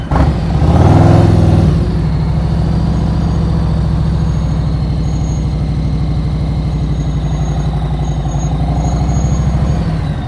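A motorcycle engine idles steadily and loudly with the clutch pulled in as the bike brakes to a stop, a brief rise at the start settling into an even, close mechanical drone.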